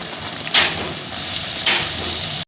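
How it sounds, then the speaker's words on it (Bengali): A spice paste of ground fig, garlic and ginger fries in hot oil with a loud, steady close sizzle, broken by two sharp scraping stirs before it stops abruptly. "এইটা তেলে দিলাম কষানোর জন্য"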